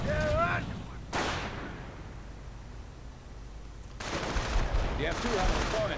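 Howitzer artillery in a real-time strategy battle: a sharp, loud blast just after one second trails off into rumble, and a second burst of heavy gunfire swells near the end, with a voice briefly audible at the start.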